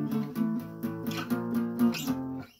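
Chords for a song are strummed on a guitar in a quick, steady rhythm at moderate volume, alone and with no talking.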